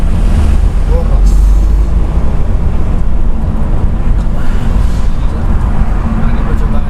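Mercedes V-Class ex-taxi with a 3500 cc engine accelerating gently to around 40, a steady low engine and road rumble heard from inside the cabin, continuous and fairly loud throughout.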